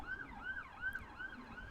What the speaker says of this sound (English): You frequently hear sirens from ambulances on the Peregrine cams.